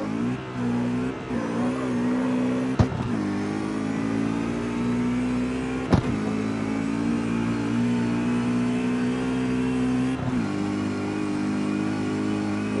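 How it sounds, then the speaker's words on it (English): A BMW's engine revs steadily in the CarX Street racing game, a loud sustained drone that holds its pitch with slight rises and falls, broken by a couple of sharp clicks or shift knocks. "The engine's pretty good."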